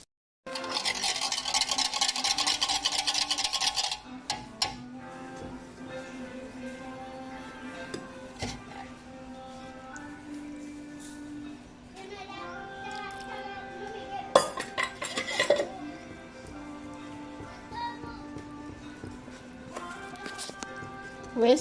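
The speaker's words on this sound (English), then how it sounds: "Whisk and whisk." Eggs, oil and baking powder whisked into pancake batter in a bowl, with a light, irregular scraping and clinking of the whisk against the bowl. The sound is close but fairly quiet, with other faint kitchen noises around it.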